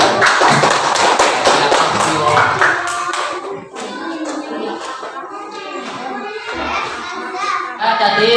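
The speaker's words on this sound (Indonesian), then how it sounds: "Ya, tepuk tangan." A school class of children clapping, a dense burst of applause that fades into scattered claps and children's chatter, then picks up again at the very end.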